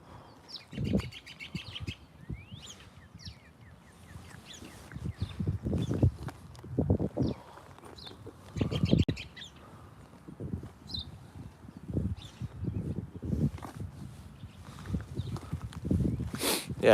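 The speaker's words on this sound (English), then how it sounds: "Listen to the birds." Small birds chirp and tweet intermittently in the open air, fairly faint, with low thumping steps or hoof-like knocks and outdoor bustle underneath.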